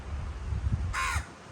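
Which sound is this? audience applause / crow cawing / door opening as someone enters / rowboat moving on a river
crow cawing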